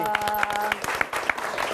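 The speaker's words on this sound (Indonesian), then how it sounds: "Tepuk tangan dulu" Studio audience clapping on a lifestyle talk show, a short burst of applause with some claps standing out close by and faint voices mixed in.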